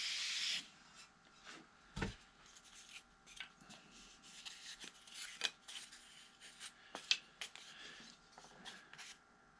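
Model airplane part for a control line Holeshot build rubbed back and forth on sandpaper, a close, dry rasping scrape in uneven strokes with brief pauses and a single knock, no talk.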